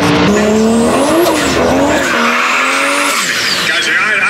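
A Toyota Supra-powered SUV accelerates hard, its engine rising and falling in pitch through gear changes with tire squeal, loud and close, while people talk over it.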